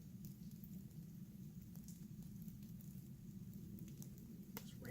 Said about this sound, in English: It's raining a little bit. The water's falling through the trees and dropping on the ground.